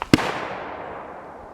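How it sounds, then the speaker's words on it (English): A single sharp gunshot cracks once from a distance and leaves a long fading echo. Black-powder shooting is under way nearby. "bear with any gunfire you hear in the background"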